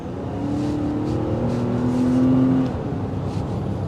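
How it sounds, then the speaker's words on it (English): A 2022 Infiniti QX60 with a 9-speed automatic transmission revs up smoothly, the pitch climbing steadily before easing off, heard close with no talking. "we now have a 9-speed automatic transmission"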